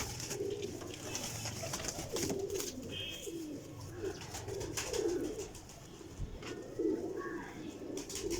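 Black-faced Sialkoti pigeons coo repeatedly in low, rolling phrases that overlap one another, with a steady outdoor background hum and no talking.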